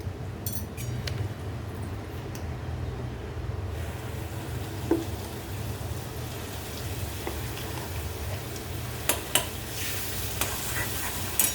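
Spice paste (vatan) fries in a pan over low heat for matki usal, a soft, steady sizzle with occasional light taps and clinks of a spoon.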